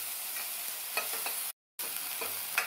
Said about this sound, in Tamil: இப்போ இதை எல்லாத்தையுமே நல்லா வதக்கி விட்டுக்கணும்.